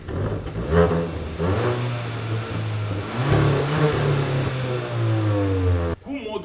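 A Kia Ceed GT's dual exhaust revs steadily with sport mode off, a moderate exhaust rumble rising and falling in pitch before cutting off abruptly near the end.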